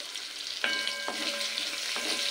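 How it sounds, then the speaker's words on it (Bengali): Potatoes frying in a pan on a home stove during Bengali cooking, with a steady close sizzle and a few sharp stirring scrapes and knocks at intervals. "এবার আলুটাকে একটু লাল করে ভেজে নিতে হবে ঢাকা দিয়ে"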